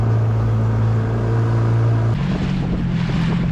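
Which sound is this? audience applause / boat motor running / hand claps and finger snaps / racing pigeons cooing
boat motor running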